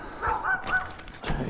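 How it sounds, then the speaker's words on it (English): A dog barks in a few short yaps close by, heard alone at a clear-water lake in upstate New York during bass fishing. "Every time I catch a fish, that dog's right there barking."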